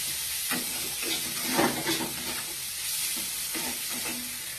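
A starter frying in a pan with sugar added, crackling and sizzling with a few stirring scrapes throughout.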